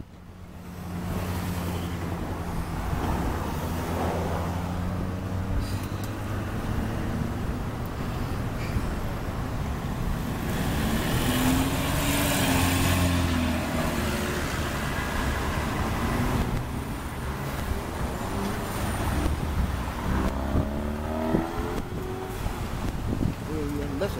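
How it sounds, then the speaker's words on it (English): Road traffic with passing cars on a street near a post office, a broad steady wash of engine and tire noise that rises and falls at moderate distance, with people talking over it throughout. "Traffic, y'all."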